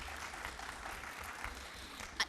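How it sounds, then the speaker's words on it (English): Brief applause from a town hall meeting audience, a steady wash of clapping hands at moderate distance that stays even throughout, with a sharper clap right at the end. "applause for Jack"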